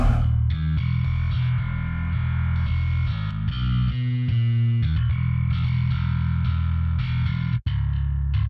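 Bass guitar played through a distortion plugin, loud and continuous with thick gritty sustained notes and a few quick note runs, a brief dropout near the end, no talking.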